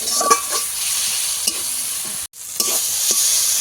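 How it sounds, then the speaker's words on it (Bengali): Spice paste, thinned with a little water, sizzles steadily in a hot pan while a spatula scrapes and stirs it in a few distinct strokes, with one brief break in the sound. "সামান্য জল দেবো এবারে ভালো করে একটু কষিয়ে নেবো মশলাটাকে"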